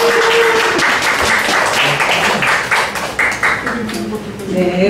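Seminar attendees in a church, at a couples' relationship-recovery session, clap together in a lively burst while a voice speaks over the applause.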